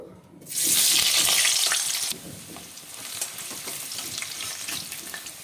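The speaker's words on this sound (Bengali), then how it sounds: "তেলটা গরম হয়ে গেছে, দিয়ে দেবো অল্প হলুদ। আলুটা ভেজে নেব।" Potatoes hitting hot mustard oil with a little turmeric in a kadai, a sudden loud hissing sizzle that surges, then drops to a steadier bubbling fry with light scraping, close by, no talk.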